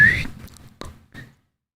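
A person tries to whistle and gives a brief airy, thin tone that fades out, then two short breathy puffs follow before silence, close and fairly loud.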